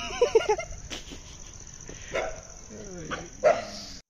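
A dog barking outdoors near a temple on a weekend trip outside Bangalore; a few short barks at moderate distance over steady chirping insects, with people talking.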